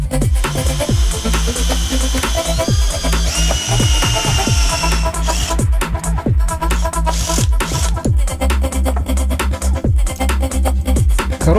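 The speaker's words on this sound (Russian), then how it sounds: "Их распиливаю, чтобы сделать разъемными." Duralumin clamp rings for mounting a wattmeter on a bicycle handlebar being cut apart. A loud, continuous, close-up metallic grinding whir carries rapid rhythmic pulses and shifts in pitch throughout.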